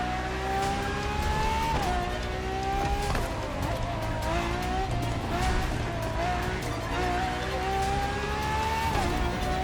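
A Ferrari FXX K supercar, a track-only LaFerrari derivative, races in The Crew Motorfest, its engine note climbing steadily through gears with sharp shift drops, loud and continuous alongside tire noise.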